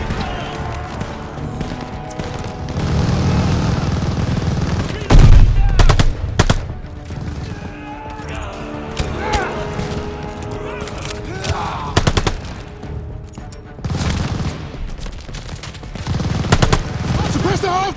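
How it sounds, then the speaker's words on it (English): Sustained machine gun bursts aimed at a half-track in Call of Duty Vanguard, dense rapid fire with sharp loud cracks that hold across the whole stretch, with battlefield noise and some speech mixed in. "Suppress the half track, MG!"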